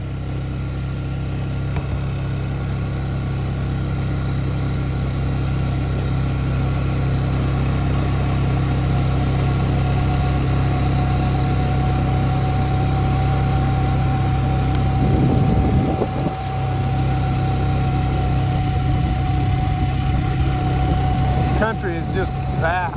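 Steady engine drone and road rumble inside a vehicle driving a winding road up and down through vast open country in Idaho, constant throughout, with people talking over it.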